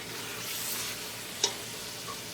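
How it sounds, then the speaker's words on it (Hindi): Camel meat fries in oil with spices while being stirred, giving a steady close sizzle with a brief sharp scrape of the utensil partway through; no voices. "मैं मुसलसल इसको भून रही हूँ ताकि इसमें से स्मेल ख़त्म हो जाए"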